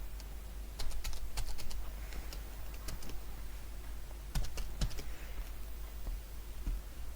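A password is tapped out on a computer keyboard while filling in an online form: scattered, close key clicks in irregular bursts over a low hum.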